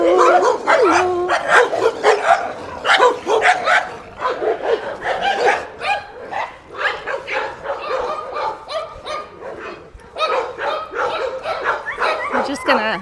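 Several dogs along a residential alley bark, yip and whimper in dense, overlapping bursts, close and loud, continuing almost without pause throughout.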